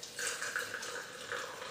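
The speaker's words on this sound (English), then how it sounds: "Now, add a little bit of cold water," Cold water poured into a container with sugar for a Greek frappe, a short, quiet trickle with light splashy bursts, close by, no speech.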